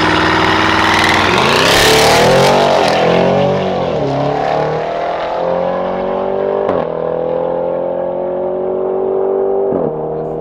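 A drag racing car engine, part of an RS6 matchup, revs hard and loud, climbing and holding high with a couple of sharp throttle blips near the end, heard up close with no talking.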